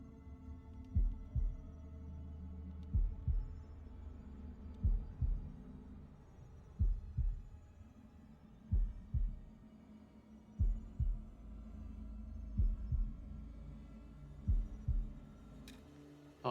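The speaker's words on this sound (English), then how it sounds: "it's heartbeat game time" Heartbeat minigame in the horror video game House of Ashes: a steady, deep double-thump pulse repeating about every two seconds, muffled and low over a constant droning hum, with no talking.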